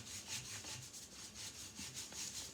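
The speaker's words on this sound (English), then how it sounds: "I'm just going to rub this entire area." Closed scissors rubbed firmly back and forth over marked paper give a steady, close scraping with rhythmic pulses, continuous throughout with no talking.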